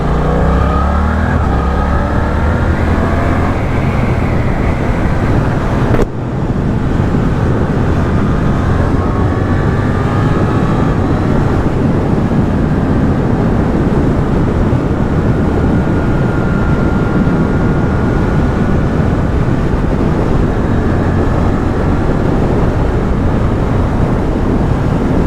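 2023 Suzuki GSX-8S motorcycle engine while riding, a loud continuous drone mixed with heavy wind roar, engine pitch rising and shifting, with a brief dip near the start, likely a gear change.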